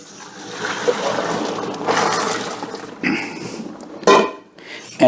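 Pasta water is drained from a pot into a sink, a splashing, gurgling pour at moderate loudness, with a few clanks of the pot near the end and no talk.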